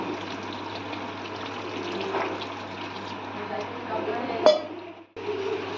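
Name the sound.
pouring warm water into cooking Mughlai chicken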